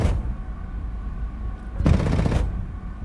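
A J-7E jet's cannon fires in a combat flight game: one rapid burst of about half a second cuts loudly through the steady engine drone.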